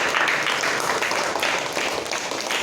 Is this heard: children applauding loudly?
yes